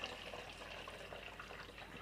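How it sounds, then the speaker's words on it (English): Turkey broth pouring steadily into a fat separator, a continuous soft liquid splash at moderate level for about two seconds with no talking. "I'm just going to pour this"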